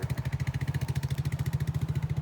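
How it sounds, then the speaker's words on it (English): A push-button started engine chugging steadily at idle like a tractor, a close, loud, even low thumping pulse with no pauses. "it fires right up and chugs like a tractor."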